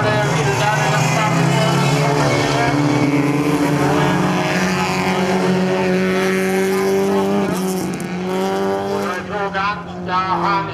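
A junior race car accelerates hard during a final race at Kalmar, its engine whining loudly and steadily up through the revs while a commentator talks over it.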